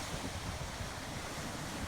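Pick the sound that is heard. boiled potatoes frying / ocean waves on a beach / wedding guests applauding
ocean waves on a beach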